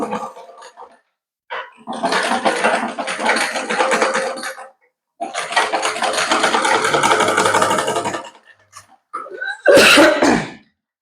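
A domestic sewing machine stitching a folded hem on an elastic nightie, running in two long steady bursts of several seconds each with short pauses between and a brief rougher noise at the end.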